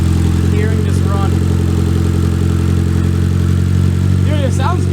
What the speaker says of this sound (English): there's no weird noises coming from the engine after sitting for so dang long